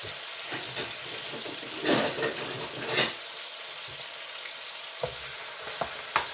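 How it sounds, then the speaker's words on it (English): Steady frying sizzle in a pan, a broad crackling hiss with occasional louder pops and stirring clatter, close and continuous. "so that's me frying those"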